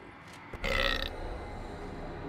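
A deep, drawn-out cartoonish burp from the hellhole in the dungeon-management game Dungeons 3, preceded by a short thump, set over a steady low game-music bed with no voices.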